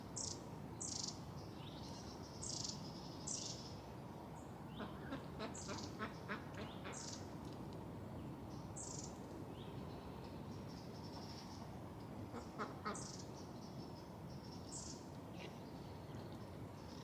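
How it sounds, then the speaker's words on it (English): A pair of mallard ducks quacking repeatedly in short bursts over steady outdoor background noise, moderately near, with brief bird chirps mixed in and no one speaking. "The two mallard ducks, the couple, were just chilling on a decking"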